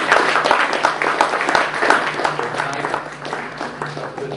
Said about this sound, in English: So let's give a round of applause to welcome Blake Lucchese.